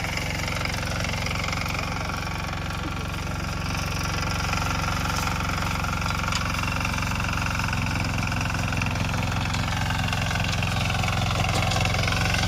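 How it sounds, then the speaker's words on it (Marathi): A farm machine for removing crop stubble runs heavily under load, its engine steady and loud throughout, a continuous rumbling drone with a rapid chugging pulse and no pauses. "पाटील मशीन तुटलेला आहे काय"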